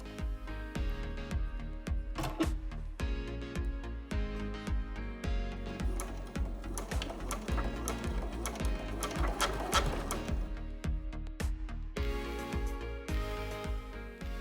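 A sewing machine runs in steady rapid bursts, top stitching a three-sided line around a skirt pocket, its needle clatter close and continuous with brief pauses between runs.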